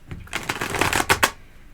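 A deck of tarot cards is shuffled up close, giving a quick riffling flutter that ends in two sharp snaps, with no talking.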